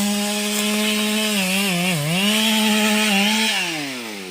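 A chainsaw cuts through a mahogany tree in a plantation that also grows teak. Its loud, steady engine whine runs close and unbroken, with its pitch dipping as the chain bogs down under load.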